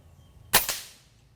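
A single sharp, close air rifle shot fires a King 25 Diablo pellet at 3,000 psi, a crisp crack followed by a brief metallic echo that fades within half a second.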